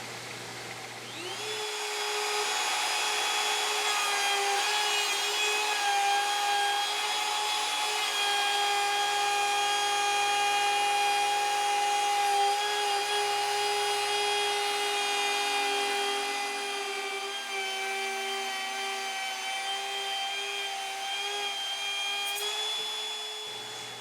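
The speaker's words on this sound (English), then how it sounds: "My edge banding router setup won't go quite wide enough, so I'm going to finish cutting the channel using the gamble and chisels." An edge banding router cuts a channel into a wooden harp neck, producing a sustained high-pitched whine with steady cutting noise. It runs loud and continuous for about twenty seconds before winding down, with no voices.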